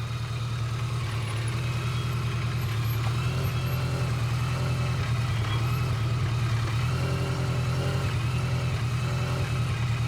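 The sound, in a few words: motorcycle riding slowly during a practice session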